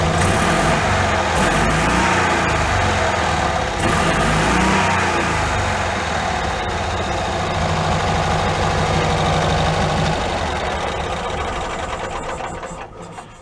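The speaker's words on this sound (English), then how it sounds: "I'm going to go turn the choke on a little bit, and you'll notice how much it likes to rev better when the choke is on" A small engine with its carburetor choke partly on, revving loud and close with a raised, buzzy idle, a steady rattling drone that swells and eases slightly before tapering off at the end.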